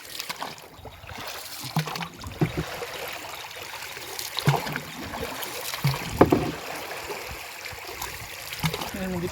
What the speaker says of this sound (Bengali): খুব জোরে এগোচ্ছে, তোমরা দেখতে পাচ্ছ নৌকোটা